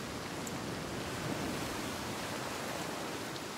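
Steady rain and rolling waves wash together in a stormy coastal scene in Senua's Saga Hellblade II, a soft, even hiss of water with no voices over it.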